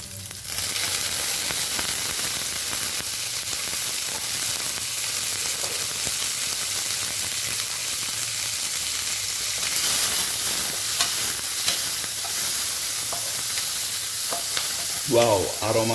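Chicken sizzles and fries steadily in hot oil with garlic, shallots and green chili, a dense continuous crackle with stirring scrapes that holds at an even, close level throughout.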